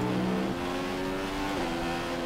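Formula One race car engine in the F1 2015 game, racing at Spa in Belgium, holds a loud, steady high-pitched whine with shifting harmonic tones, continuous and close, with no talk over it.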